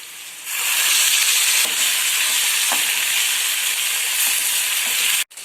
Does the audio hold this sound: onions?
yes